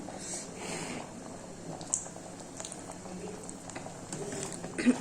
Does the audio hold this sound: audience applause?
no